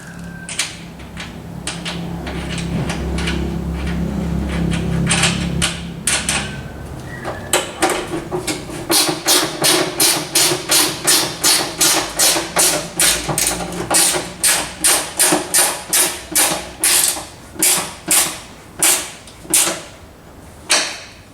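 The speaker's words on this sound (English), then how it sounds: "Install the nut and do it up with your ratchet spanner." A ratchet spanner tightens the nut on a go-kart seat bolt. A steady run of evenly spaced, crisp ratcheting clicks follows a stretch of duller handling noise, close and distinct, with no one speaking.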